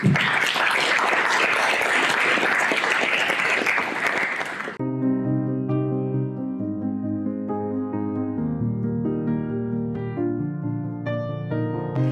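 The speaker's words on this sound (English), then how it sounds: "let's give our two panelists a big round of applause" A university investor forum audience claps for two panelists, a dense burst of applause lasting several seconds that cuts off abruptly and gives way to music.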